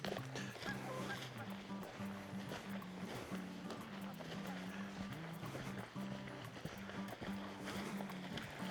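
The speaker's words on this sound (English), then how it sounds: "Geese. I love geese." A flock of geese honking repeatedly in the open in the Lake District, their calls overlapping against a steady outdoor background.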